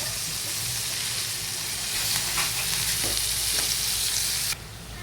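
Fenugreek leaves frying in a pan and being stirred, a steady loud sizzle with scraping strokes of the spatula partway through before the sizzle suddenly drops lower near the end.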